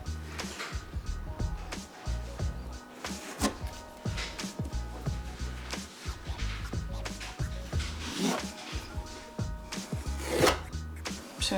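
Waterproofing sealant is smeared along a tub shower wall seam, steady scraping and rubbing strokes close by with small knocks between passes during a bathroom renovation.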